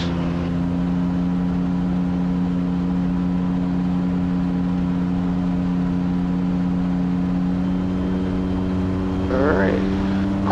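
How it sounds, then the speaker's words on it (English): A Super Petrel amphibious plane's engine holds a loud, steady droning hum with strong tonal harmonics during a takeoff run on water, with a brief burst of splashing or spray noise near the end. "Straight ahead for a takeoff run. We'll give it turbo, because why not?"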